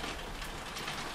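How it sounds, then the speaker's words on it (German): Heavy rain in the video game WildStar, a dense, steady hiss of downpour filling the whole moment with no talk over it. "der Regen ist echt unglaublich"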